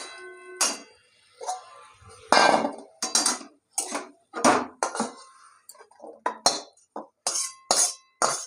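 A metal cooking pot holding boiled drumstick flowers clanks and clinks as it is handled and lifted off the stove, a series of sharp separate knocks and scrapes close by.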